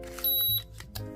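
A detector gadget held near trading card packs gives a short, high electronic beep, a single clear tone standing above soft room noise.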